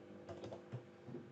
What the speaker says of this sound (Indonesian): tinggal ngetik script.